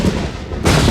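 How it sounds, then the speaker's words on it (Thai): A lightning strike from a lightning potion in the Roblox game Dead Rails, heard as a loud broadband crack and rumble that dips briefly and then surges back strongly near the end. "ฟ้าผ่า ฟ้าผ่า น้ำยาฟ้าผ่า"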